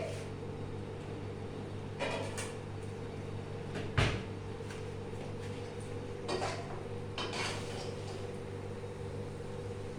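Plates and utensils knock and clink while Schezwan noodles are plated in a kitchen, a few scattered close clatters with one sharper knock, over a steady background hum and no talking.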